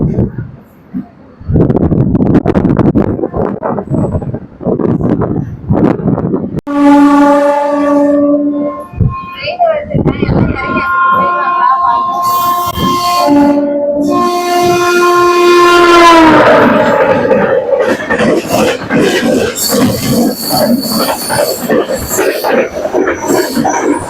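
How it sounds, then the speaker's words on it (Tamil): A MEMU passenger train on the Trichy to Villupuram line picks up speed on the main line after a fast departure, with a loud, long horn blast over rumbling wheels and a voice briefly at the start. "Main line acceleration."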